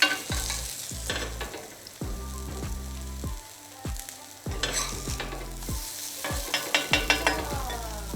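Corn kernels stirred and fried in a hot pan, with repeated scraping stir strokes in a steady rhythm over a continuous close sizzle. No one speaks.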